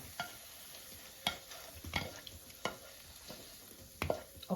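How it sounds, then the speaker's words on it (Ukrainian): Fried potatoes stirred in a frying pan with oil. Sharp scraping strokes come about once a second over a low, steady sizzle, close by and with no voices. "Далі сюди висипаємо нашу картоплю смажену."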